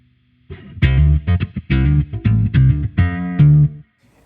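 A low, distorted bass-heavy tone made with guitar effects in Loopy Pro plays a series of thick, punchy notes in a short choppy phrase, loud and close with no voices.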